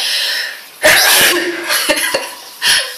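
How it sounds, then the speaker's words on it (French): A close, loud sneeze breaks out, followed by a few sharp breathy sniffs and smaller bursts. "Ça, je vais éternuer."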